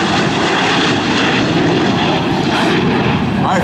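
A Sea Harrier jet making a low flypast at an air show at NAS Patuxent River gives a loud, steady, roaring engine rush that fills the whole stretch without a break.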